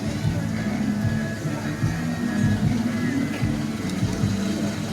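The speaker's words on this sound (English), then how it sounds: "1923, Tasker & Sons Little Giant B2 tractor, owned by Pete and Jill Taylor" A 1923 Tasker & Sons Little Giant B2 steam tractor rolls into the arena at an Isle of Wight steam fair, giving a steady, close, low rumble with uneven pulsing chuffs over constant outdoor noise.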